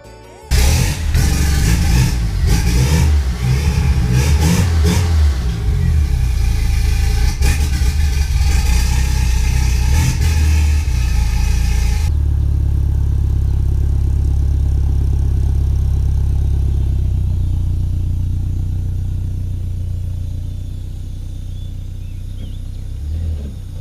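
A turbocharged Plymouth Sundance 2.2 engine roars loudly with revving at first, then settles into a steady, lower rumbling idle that continues to the end.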